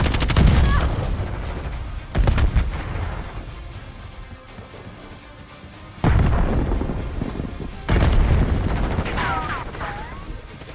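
Frag grenade explosions and gunfire in a shooter video game come as several loud booming bursts with trailing rumble, spaced a few seconds apart, while voices call out briefly between them.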